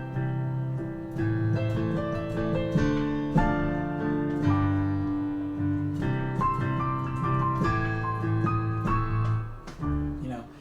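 A 2-5-1 chord progression of sustained instrumental chords changing every couple of seconds, played steadily and fairly loud with no talking.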